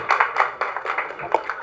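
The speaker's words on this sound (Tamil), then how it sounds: "ஜெனிஸ்க்கு தான் கைத்தட்டல் அதிகமாக இருக்குது." Applause at a film press meet for the movie Pitha, a cluster of hands clapping in quick uneven bursts, fairly close and moderately loud.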